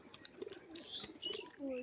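A Beldanga-breed tumbler pigeon gives soft, faint coos over a quiet background, a few brief low calls spread across the moment.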